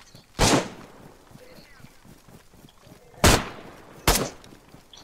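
Shots from a big gun in the video game DayZ, set in Livonia: three sharp, loud gunshot bursts spaced a few seconds apart, with low chatter and game noise in between.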